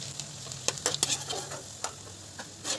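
Chicken chops sizzle in hot oil as they are stirred and lifted from the pan, a soft steady frying hiss broken by close metal scrapes and taps.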